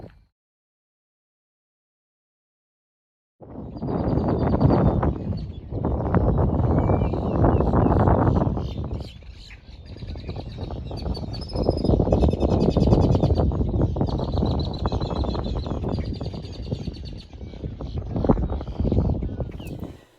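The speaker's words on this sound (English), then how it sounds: "You can hear the grackles really loud there." Loud, dense outdoor chorus of grackle and red-winged blackbird calls and trills in East Texas, continuous after a brief silence, with sharp high whistles over a steady noisy wash.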